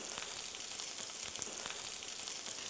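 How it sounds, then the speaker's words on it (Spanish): Food being sautéed in a pan over very high heat gives a loud, steady, dense sizzle that runs unbroken throughout, with no voices. "Esto es saltear."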